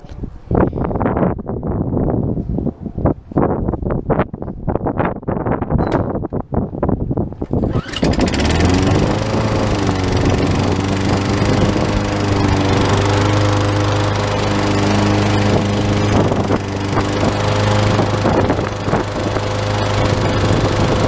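Four-stroke lawn mower engine cranked with a few rough pulls and sputters, then catching and settling into a loud, steady close-up idle with a constant low drone.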